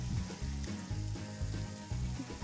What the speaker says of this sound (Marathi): मसाला छान तेल सुटेपर्यंत आपल्याला गरम करायचा आहे यात मी थोडेसे कढीपत्ता टाकलेला आहे